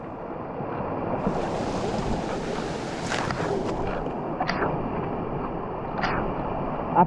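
A small hidden waterfall in Zirad runs with a modest flow, a steady broadband rush of falling water heard close by, with brief sharper splashes and wind buffeting on the microphone.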